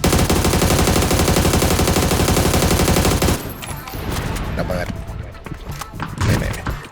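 Automatic gunfire in the battle-royale video game PUBG, a loud rapid burst of evenly spaced shots for about three seconds, followed by scattered fainter shots and game noise while voices chatter.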